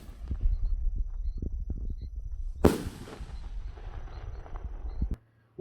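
Busca-pé ground-chaser firework, part of a fireworks display: one sharp, loud burst with a rushing hiss follows scattered crackles and pops over a constant low rumble, and the rumble then cuts off suddenly near the end.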